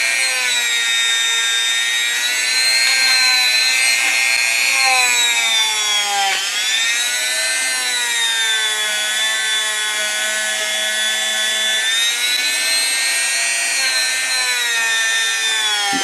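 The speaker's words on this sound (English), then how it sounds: "hard felt polishing point to get in all the recesses" A rotary tool spinning a hard felt polishing point against a Singer 66 class bobbin case makes a loud, close, continuous high whine whose pitch dips and rises as pressure changes, with no voices.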